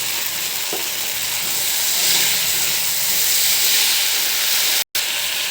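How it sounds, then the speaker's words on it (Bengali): Potatoes, onions and ground cumin and coriander fry in a pan with a loud, continuous sizzle and hiss, briefly broken by a short dropout. "এখন এটাকে আমি একটুখানি ভেজে নেব সুন্দর করে।"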